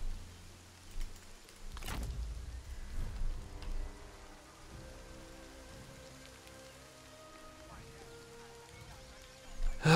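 Steady rainfall in Total War: Three Kingdoms, a soft continuous patter of raindrops with a low rumble early on and someone speaking over it.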